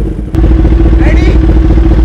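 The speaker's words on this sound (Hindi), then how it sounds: "बाइक की आवाज सुनना गाइस" A superbike engine idles with a steady, loud low rumble from start to finish just before a drag race against a supercar, a brief clatter near the start, voices audible over it.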